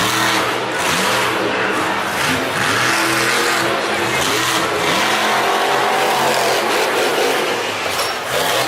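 Earthshaker monster truck on its Hurricane Force chassis at Monster Jam Nashville 2019, engine roaring loud and close with continuous revving and fluctuating pitch, no talking over it.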